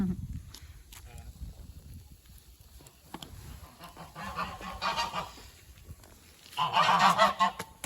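Domestic geese honk in a home yard, with a burst of calls midway and a louder, denser round of honking near the end, amid faint background voices.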